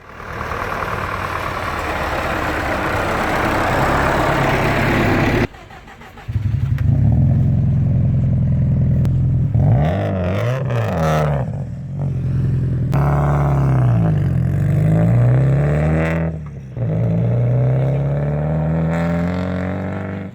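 2008 Subaru WRX STI rally cars at the Nürburgring rev loudly and pull away close by, their engines rising and falling in repeated throttle sweeps over a steady rumble.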